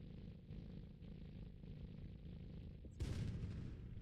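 A tank's main gun fires once in the video game Sprocket, a single loud, broad boom with a rumbling tail that jumps out over steady engine and ambient game noise.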